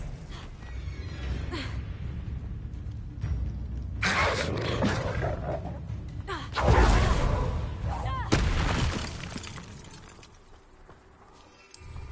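Confringo blasting spell explosions in the video game Hogwarts Legacy, heavy booming blasts and rumbling impacts over dense game noise, with a big hit in the middle and another soon after before the noise trails off.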